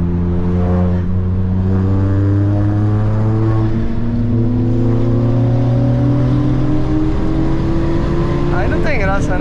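A car with a stage 3 tune, hard-cut limiter and pops roars close by, its engine note climbing repeatedly through rising revs with crackles near the end, as voices chatter inside the cabin.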